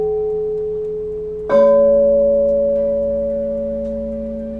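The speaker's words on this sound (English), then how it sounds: "When you hear this sound bowl, big sound bowl," A big singing bowl is struck once partway through and rings on with a clear, sustained, slowly fading tone, replacing a quieter earlier hum, with no voices.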